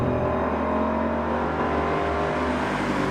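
A Ford Mustang Boss 302 at speed, its V8 giving a deep, steady rumble with pulsing low throb and a short gear-change dip near the end, heard close from inside over road noise.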